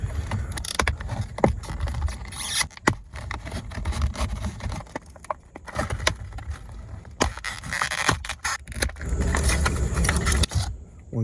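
Packaging for a GM Silverado/Sierra key fob is handled and opened, giving repeated plastic crinkles, clicks and rattles in irregular bursts, close by, with no talk.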